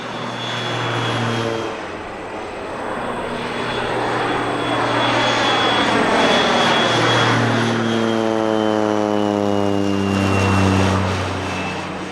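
An Air Tractor crop duster airplane, an AT-602 or AT-402A, making spraying passes, its loud propeller engine droning steadily and shifting in pitch as it passes close by and turns.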